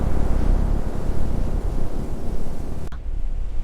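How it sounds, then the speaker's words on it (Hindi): Strong wind blowing in a steady loud rush of broadband noise with gusting swells, buffeting close to the microphone, ending in an abrupt cut. "तेज हवा चलने लगी"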